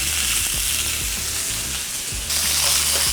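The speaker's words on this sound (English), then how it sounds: "sear these on all sides. I'm gonna get a nice brown crust on it." Pork shanks sear in a hot pan, giving a loud, steady, close-up sizzle with a few soft pops and no talking.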